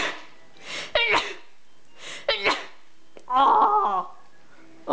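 A person sneezes three times in a row, each sneeze a sharp breathy burst. A gasping intake comes before each one, and the last is the loudest and most drawn out.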